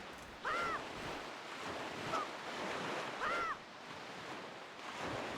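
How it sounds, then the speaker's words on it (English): Loud ocean surf rolls and washes steadily in a Zelda video game, a constant roar of waves with faint tonal chirps rising through it now and then. "The waves just seem very loud to me."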